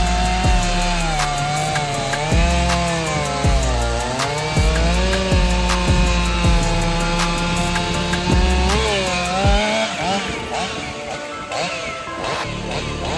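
A STIHL chainsaw with HEXA chain cuts wood at an outdoor press event. The engine drones loudly and its pitch dips and rises under load, with regular knocking pulses, then ends in rougher cutting noise.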